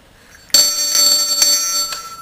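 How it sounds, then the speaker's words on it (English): A little hand bell struck once after a brief quiet moment, giving a bright, clear metallic ring that sustains and slowly fades, close and alone. "number 10 is a little bell that says ring for a hug"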